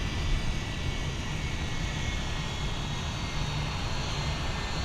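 An airliner taking off from runway 12 left at Minneapolis–St. Paul airport, a steady distant roar of aircraft engines holding at a moderate level throughout.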